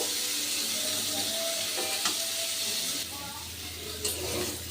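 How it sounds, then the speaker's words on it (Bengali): Young jackfruit pieces fry in hot oil in a home kitchen, giving a soft continuous sizzle with occasional stirring clinks, moderately quiet and close. "এই তেলের মধ্যে ইঁচড়গুলো আমি খুব ভালো করে ভেজে নিচ্ছি"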